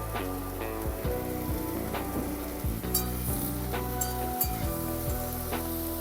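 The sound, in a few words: oil sizzling in pan for dried shrimp curry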